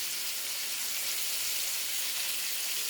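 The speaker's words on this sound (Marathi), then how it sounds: "आणि हे कुपा मच्छी आहे। हे आपण ठेवले आहे तळायला।" Kupa fish fries in hot oil with a steady, dense sizzle and hiss, close and even throughout, with no voices.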